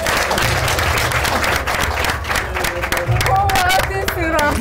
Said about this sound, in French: Applaudissez vraiment.